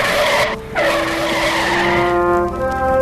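A truck skids to a stop with a loud, close screech of tires, a sustained squeal that briefly dips then stretches into a long wailing tone, with no voices over it.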